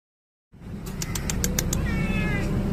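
A stray street cat meows repeatedly at close range, its voice rising and falling over a steady outdoor rumble that sounds like passing traffic.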